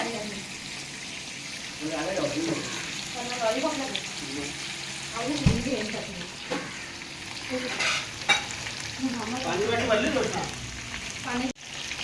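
Liver (kaleji) frying in a pan at a New Year party, a continuous sizzle with occasional stirring scrapes, heard close while people talk over it.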